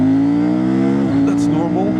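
A CFMOTO 800MT Explore 2024 motorcycle engine drones loudly at steady revs, then dips sharply as the quick shifter snaps through a gear change and the revs climb again.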